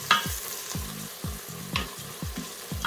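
Onions and spices stirred and frying in a pan, a steady sizzle with repeated scraping strokes of the spoon about every half second, close and fairly loud, no voices.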